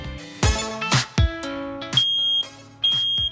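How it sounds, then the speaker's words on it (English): A kitchen smoke alarm sounds loud and close in a series of shrill, sustained electronic beeps, some clipped short and others held, with brief gaps between them. "little smoke alarm after trying to cook something in the kitchen"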